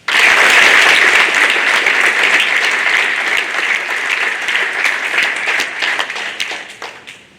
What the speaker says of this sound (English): Let's take a moment to give each other a huge round of applause.